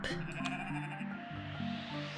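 Sheep in the video game Equilinox bleat repeatedly in a steady string of wavering, nasal calls over a soft ambient game background, with no talking.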